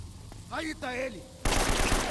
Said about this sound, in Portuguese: Eles também estão atirando em você,